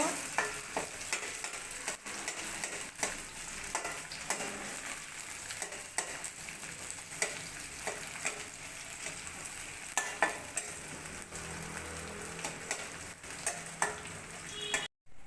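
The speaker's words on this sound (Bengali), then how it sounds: "পেঁয়াজটা লাল লাল করে ভেজে নেব।" Chopped onions fry in a pan for a Bengali fish curry, giving a steady, loud sizzle and crackle throughout, with occasional scrapes and clinks of stirring and no talking.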